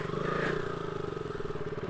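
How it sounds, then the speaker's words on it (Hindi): KTM motorcycle skidding on a dangerous mountain road in Spiti after snowfall: a steady, close engine drone with scraping and clattering from the tyres, loudest near the start. "ये देखो KTM ऐसे स्किट करती है"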